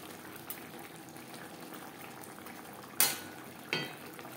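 Fasha fish simmers in gravy in a pot with a faint, continuous bubbling hiss, broken by two sharp utensil clinks near the end.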